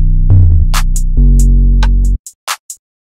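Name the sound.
bass drop effect together with the 808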